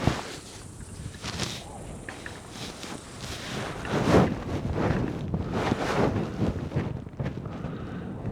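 Wind buffets the microphone at an outdoor rifle range, La Perla Range, during 200-yard shooting. It is a rumbling, gusty roar that swells and fades unevenly, loudest midway, with no voices.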